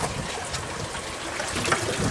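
Water trickles and splashes steadily out of a pipe in a homemade aquaponics setup, a soft, continuous gurgling flow heard close by with no voices.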